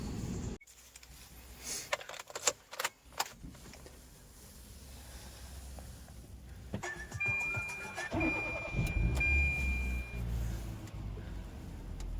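A car starts and pulls away on a street in Madrid, with intermittent knocks and handling noises, a brief high beep, then a low engine rumble building as it drives off.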